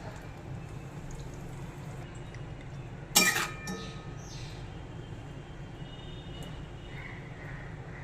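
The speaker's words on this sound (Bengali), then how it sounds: "ঝোলের মধ্যে মাছগুলোকে একটু ডুবিয়ে দেব খুন্তি দিয়ে।" A metal spatula gives one sharp clink against a wok holding katla fish curry, then a few fainter scrapes follow over a quiet background hum in a home kitchen.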